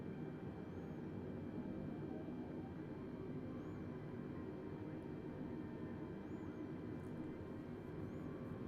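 A steady, muffled engine drone and low rumble fill the cabin of an Airbus A320neo airliner as it taxis to the gate, a constant hum with no talk.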